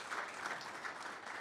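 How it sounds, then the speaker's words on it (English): An audience at a county board meeting gives a steady round of applause, a dense, even wash of many hands clapping together at moderate distance, with no voices on top. "y'all give him a round of applause anyway"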